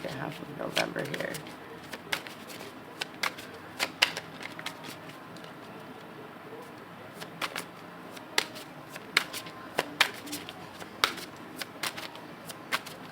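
A tarot deck is shuffled by hand in quick, irregular bursts of crisp card riffles and soft slaps, close and fairly quiet, with a person talking softly between the bursts.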